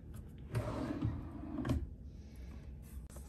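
A drawer in a hotel room near Osaka Castle slides open with a couple of quiet wooden knocks and scraping, faint and close in a quiet room.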